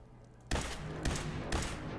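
Three loud sniper rifle shots from the video game Fallout 4 crack out at roughly half-second intervals, each with a booming tail that rings on beneath the next.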